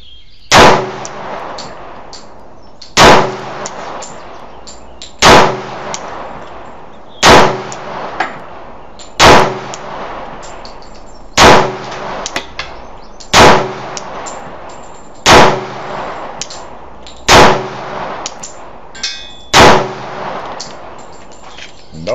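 A Glock pistol fires HST ammunition at a range, about ten loud, sharp shots spaced roughly two seconds apart, each followed by a short echo, with quiet rustling between.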